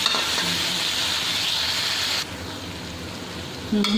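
Onions and tomatoes frying together in a pan, a dense, rain-like sizzle that drops in level partway through and then swells again, with no voice over it.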